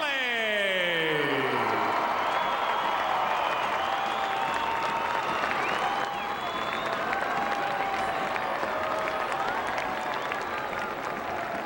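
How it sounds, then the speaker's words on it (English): Arena crowd at an indoor professional soccer game applauding and cheering steadily, a loud dense wash of clapping with scattered whoops and whistles filling the whole stretch. "let's have one more big round of applause for Pele."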